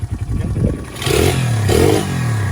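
A pit bike engine, a Honda XR100 or Yamaha TTR90, fires up and revs in two rising bursts, a close, buzzy small-engine roar that swells and eases between throttle blips.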